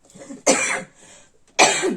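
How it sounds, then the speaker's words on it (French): Two sharp, loud coughs, lingering from Covid, close to the listener, separated by a short pause with a faint breath between them. "je tousse encore beaucoup"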